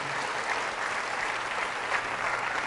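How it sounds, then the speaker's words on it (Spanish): A church congregation claps strongly and continuously, a dense even wash of applause filling the room without pause. "Fuertes aplausos a Jesús de Nazaret."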